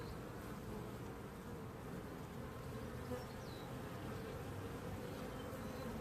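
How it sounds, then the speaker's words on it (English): A dense, steady hum of many honey bees buzzing close by, continuous and unchanging throughout. "Lots of bees."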